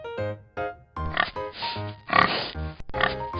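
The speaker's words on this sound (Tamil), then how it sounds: "Pig." A domestic pig oinks and grunts in a series of short nasal calls, some harsher squeals mixed in, close and moderately loud without talk.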